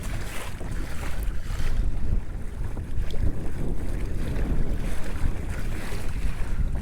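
A Hobie Outback kayak motor-sails in strong wind on choppy water, pedal drive working with the sail, giving a constant rush of wind buffeting the microphone over the slap and wash of waves against the hull, with no talk.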